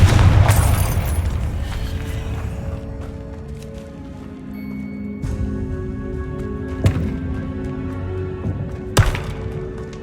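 In the video game Hogwarts Legacy, a Confringo spell goes off with a loud, close boom followed by a fading rumble, then scattered thuds and sharp impacts.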